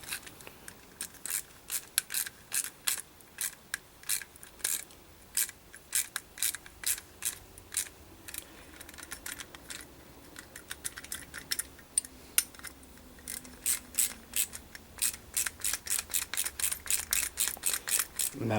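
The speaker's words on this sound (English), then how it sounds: "Now when tightening these, you can do a star pattern" Bolts on a ZTR riding mower deck idler pulley are tightened with a ratchet, giving rapid, steady clicking in quick bursts that stays close and fairly quiet for the whole stretch.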